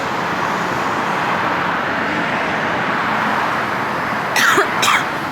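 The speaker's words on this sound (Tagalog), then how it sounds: "Inuubo ako." Two quick, close coughs from one person at night in Los Angeles, breaking through a loud, constant wash of traffic noise.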